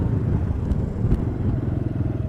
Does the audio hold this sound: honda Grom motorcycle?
yes